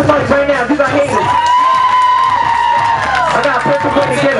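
A crowd at a summer hip-hop concert cheers and whoops beneath booming music and an MC on the microphone, a loud, steady roar of voices mixed into the sound.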